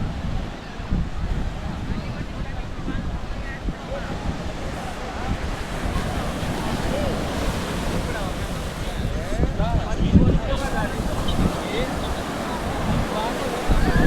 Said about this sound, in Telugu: చూడండి మెరీనా బీచ్ చెన్నైలో ఉన్నాయి.